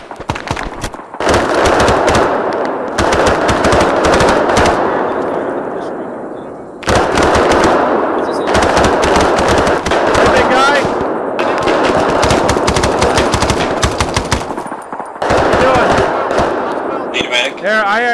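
Sustained machine-gun fire and gunshots fill a firefight in the ArmA III Vietnam War campaign, rattling in long dense bursts with brief pauses, loud and close throughout.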